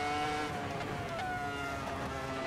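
Race car engine in the video game Assetto Corsa droning at steady high revs, a dense harmonic whine holding constant loudness throughout with slight pitch shifts, no voices.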